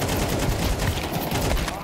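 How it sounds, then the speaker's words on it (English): Gunfire in Counter-Strike 2: a dense, loud burst of rapid automatic shots running continuously for about two seconds, close and unbroken. "Oh, I quit shooting because I thought I had him."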